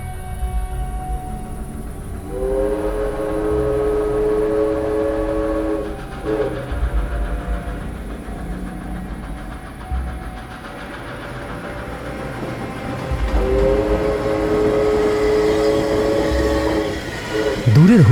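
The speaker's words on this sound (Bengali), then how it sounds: "দূরের হুইসেল ঠিক সময়ে বেজে উঠল" A train pulls in at midnight to a quiet platform at Begunkodar station, sounding its horn in two long, steady blasts at some distance, with rumbling wheels and rail noise building underneath between and after the blasts.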